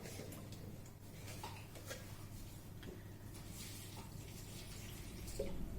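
Water pours into a Thermomix jug holding a kale and apple smoothie, a faint, steady running trickle with small clinks, heard close up and without talk.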